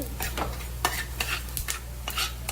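Coriander seeds roasting in a little oil in a pan, heard as rhythmic stirring scrapes every half second or so over a soft continuous sizzle, close by.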